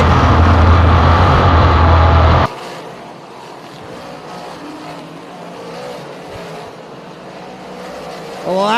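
Race cars at speed around the Thunder Mountain track, a loud engine roar for the first couple of seconds that abruptly drops to a distant, quieter drone with faint passing engine tones, then swells loud again at the very end.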